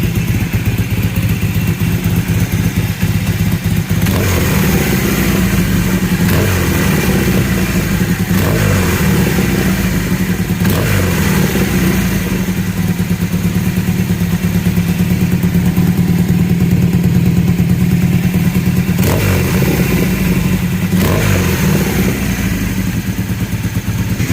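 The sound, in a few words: Kawasaki KZ 750 B4 motorcycle engine revving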